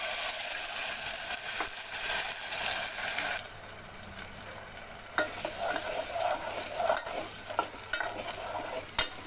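Chutney is tipped into a sizzling curry leaf tempering in a pan, a loud hissing fry that suddenly drops in level, then continues with repeated scraping stirs and occasional sharp knocks of the spoon.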